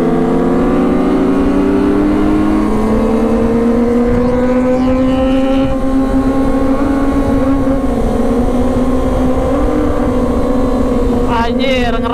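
A Kawasaki ZX motorcycle speeds along a straight road, its loud, close engine note climbing steadily in pitch as it accelerates through the gears, with wind roar throughout and a brief faint sound near the end.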